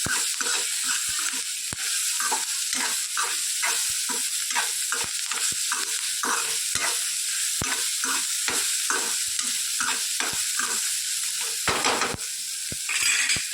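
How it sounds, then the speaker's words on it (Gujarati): A spoon or spatula scrapes and stirs a spicy sweet-sour chutney frying in a pan, in a steady repeating rhythm of scrapes over a constant loud sizzle, close up with no talking. "વચ્ચે વચ્ચે આવી રીતે સરસ આપણે હલાવતા રહીએ એટલે બધી વસ્તુ સરસ સોફ્ટ થઈ જાય"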